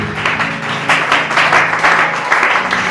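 Church congregation applauding: sustained, fairly loud clapping from a crowd, steady and dense with slight swells, over a faint background hum.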